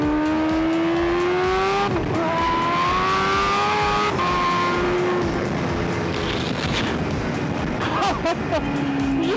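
A supercharged Kawasaki H2R motorcycle accelerates hard along a track straight, its loud engine note climbing steadily in pitch, dropping briefly at gear changes and rising again, close and continuous.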